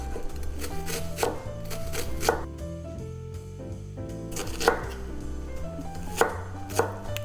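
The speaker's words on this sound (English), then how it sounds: "And we also need half of a small onion, white onion, and finally mince them." A knife minces half a small white onion on a cutting board, producing rapid, close, sharp chopping taps in irregular bursts with short pauses, no voices.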